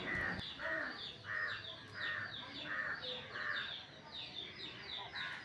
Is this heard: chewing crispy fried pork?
no